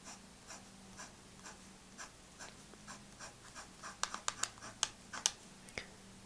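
An extra fine nib of a Lamy Safari fountain pen scratches across paper in short, light strokes, faint and close, with a few sharper ticks near the end.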